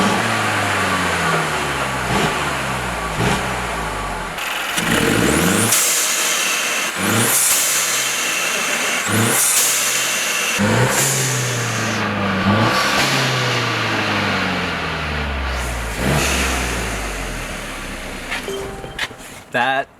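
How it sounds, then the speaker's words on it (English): A Mercedes C300 with charge pipes installed revs repeatedly, each blip climbing sharply and falling away with turbo hiss, loud and close, while people talk between the revs. "I'm going to just do a few revs for you with just the charged pipes in"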